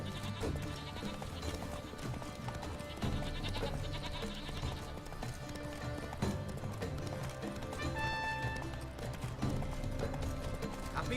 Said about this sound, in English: Damn goats.